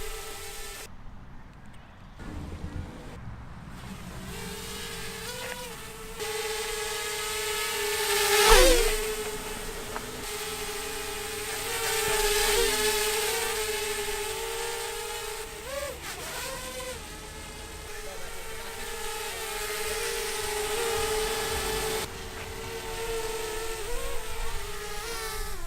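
Small Xiaomi beginner quadcopter drone hovering and flying nearby, a constant high-pitched buzzing whine that shifts in pitch as it moves, loud and close throughout.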